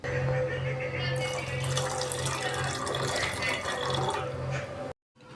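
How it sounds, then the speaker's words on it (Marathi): Milk poured into freshly boiled tea off the heat, a continuous close liquid splashing stream that stops sharply near the end. "याच्यामध्ये आता दूध टाकते"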